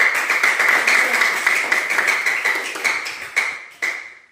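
A classroom of students applauding, a dense burst of clapping that tapers off with a few last claps at the end.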